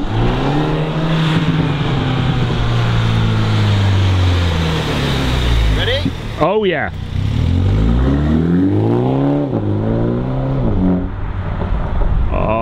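A MINI JCW Clubman fitted with a Remus race exhaust pulls away in sport mode, its deep, raw engine note rising and falling through revs, loud and close, with a sharp rev sweep midway and people talking over it.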